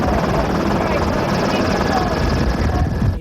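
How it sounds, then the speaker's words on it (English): A news helicopter hovers over a wreck site, its rotor making a loud, steady, dense roar that runs unbroken throughout. "A news helicopter hovering over the wreckage went down with 2 people on board."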